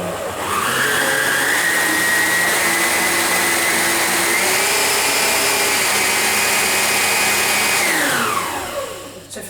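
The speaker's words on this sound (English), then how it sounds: "Whisk the egg and sugar for 4 to 5 minutes." Electric hand whisk on setting 5 beating egg and sugar for Jaffa cake sponge, a steady loud motor whine running continuously for about eight seconds before winding down at the end.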